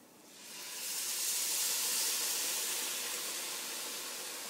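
White wine poured into a hot pan for butternut squash risotto, a bright steady sizzle and hiss that swells within the first second and then holds, slowly easing, close and moderately loud.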